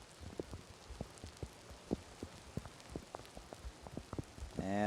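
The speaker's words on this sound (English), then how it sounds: "As the rain now has gotten so bad, you can certainly hear it on the screen." Heavy rain falls on an outdoor soccer match at night, a dense steady patter with scattered louder drops, close and continuous throughout, ending in a brief rising noise.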